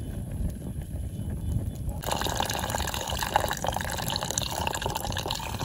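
Water is poured into a cooking pot for Maggi noodles at a forest campsite, a steady close liquid splashing and filling sound that brightens partway through.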